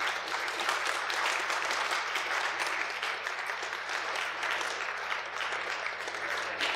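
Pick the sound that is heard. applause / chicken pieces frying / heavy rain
applause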